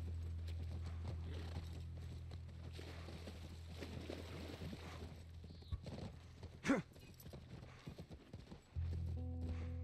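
Horse hooves clip-clop at a steady walking pace in The Last of Us video game, set over a low ambient hum, with a few louder knocks and rustles toward the end.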